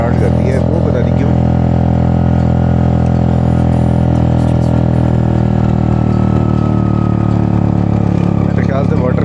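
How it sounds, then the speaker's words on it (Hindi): A motorcycle engine runs loud and close on a mountain road after water crossings, its steady rumble carrying an uneven, missing beat, with a voice talking over the engine noise throughout. "बाइक ने थोड़ी मिसिंग स्टार्ट कर दी है,"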